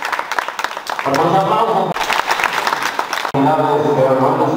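An audience applauds at the 90th anniversary celebration of Ejido El Aguacate in Bustamante, Tamaulipas: loud, dense clapping in bursts, with a voice and music-like tones mixed in over it.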